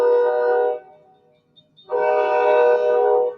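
Train horn blowing in two long, loud blasts separated by a short lull, with rumbling rail noise of a passing train underneath.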